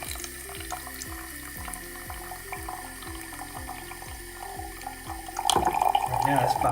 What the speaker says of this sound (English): So I'm just gonna fill it up